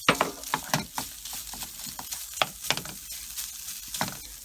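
Ham frying in oil in a warm pan, sizzling and crackling with scattered pops and sputters close by, plus occasional stirring noises, with no one speaking.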